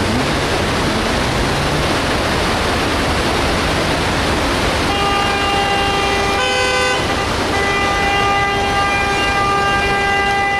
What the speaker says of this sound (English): The tram is coming in.